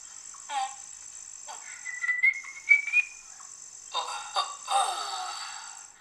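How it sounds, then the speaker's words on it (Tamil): An insect buzzing sound effect: a continuous high, thin drone holds steady throughout, with a brief whistle-like rising tone and a voice speaking in short bursts over it. "அந்த பூச்சிகளோட சவுண்டு ரிங்காரம் வந்துட்டா இந்த இதுக்கெல்லாம் அந்த வண்டுகளோட சவுண்ட்."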